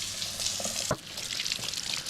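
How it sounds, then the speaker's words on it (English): A brined ham is washed under a running kitchen tap, a steady close rush of water with one brief knock partway through. "Next off, I need to wash it off and dry it."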